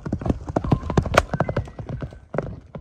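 A large horse at Bazar-Korgon gallops close by, its hooves striking in a rapid, loud, irregular clip-clop rhythm, with no talking.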